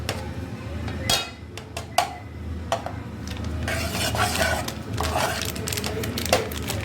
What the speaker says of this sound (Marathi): आपण ह्याला व्यवस्थित तुपामध्ये परतून घ्यायचं